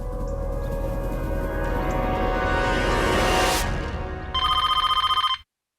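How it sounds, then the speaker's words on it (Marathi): A telephone bell rings loudly and close by in a Marathi TV serial, with a sustained trilling ring that gives way to a rapid pulsing burst before it cuts off abruptly. "वाजलाच महामाईचा फोन"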